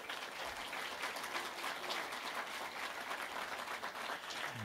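An audience applauds steadily at a panel discussion on U.S.-Irish business, the dense clapping holding for the whole stretch without pause or voices.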